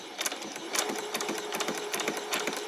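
A sewing machine stitches a quarter-inch seam on a pair of ruffled shorts, running a few back stitches; steady close whirring with rhythmic bursts as it runs, no talking over it.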